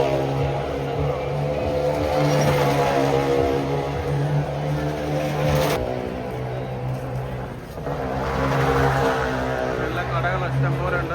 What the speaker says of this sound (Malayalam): ആ സംഭവം ബൈക്ക് ഓടിക്കൊണ്ടിരിക്കുകയാണ്.